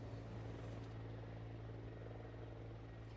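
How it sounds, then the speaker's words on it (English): Faint, steady rotor drone of a firefighting helicopter working a mountain wildfire, heard from a distance as a continuous low thrum with no talking over it. "You'll notice there is a helicopter."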